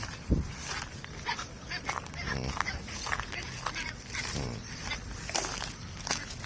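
A mother dog and her puppies at feeding time near a house, with soft scattered yelps, whimpers and shuffling paws, faint and intermittent, a voice speaking now and then.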